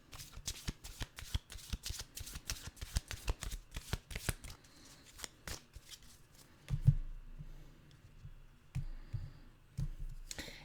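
Animal oracle cards being shuffled by hand, a quick run of crisp riffling slaps and clicks for about six seconds, then a few slower, scattered card sounds near the microphone.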